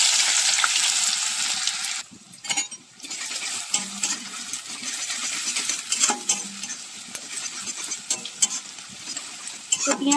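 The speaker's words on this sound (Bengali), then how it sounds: "এবার আমি পেঁয়াজ কুচনোগুলো দিয়ে দেবো।" Chopped onions sizzling in hot oil with whole garam masala spices in a home kitchen, a steady frying hiss with intermittent stirring scrapes and clinks, close and fairly loud throughout.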